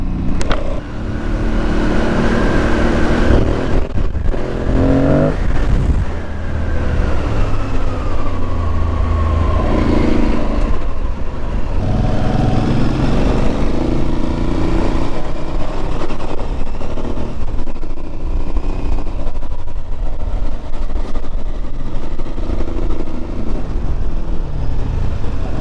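An Aprilia Tuareg 660 adventure motorcycle ridden off-road, its engine droning steadily with rising and falling revs as it accelerates and shifts, close and continuous with wind noise.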